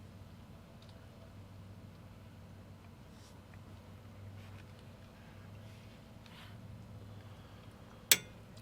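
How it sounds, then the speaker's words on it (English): An RV refrigerator's gas igniter gives one sharp, isolated click near the end of a long, quiet, faintly humming stretch, and no flame catches. "Well, it's clicking, it's just not igniting."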